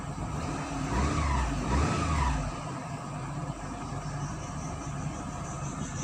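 A Daihatsu Viva with automatic transmission idles with the air conditioning on and a rough idle, giving a steady low engine drone that is slightly louder at first and then even, with no talking.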